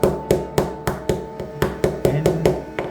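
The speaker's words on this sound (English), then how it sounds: "So what I do is gonna use my small hammer" A small hammer taps wheels into place on a Transformers Blitzwing toy upgrade kit, about ten sharp, evenly spaced knocks struck close by in a steady rhythm.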